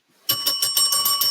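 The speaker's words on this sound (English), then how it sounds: "Where's the bell?" Bell sound effect: a bright, ringing bell struck in a rapid series of repeated rings, loud and close, with no talking.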